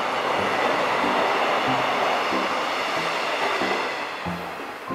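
A train rolls through a small rural halt near Daejeon, its steady rumble filling the scene with rhythmic clickety-clack wheel beats repeating every second or so, loud and close throughout before easing slightly near the end.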